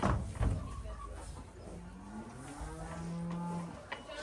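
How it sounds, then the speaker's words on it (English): A cow moos in a barn or farm setting, a low drawn-out call in the second half of the clip, with some background clatter and rustling around it. "That cow will eat anything."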